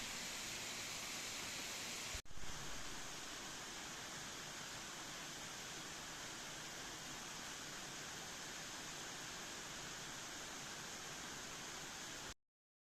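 The Faillitoux waterfall in Cantal, which drops over basalt columns, gives a steady, soft broadband rush of falling water heard from a distance, broken once by a brief thump early on.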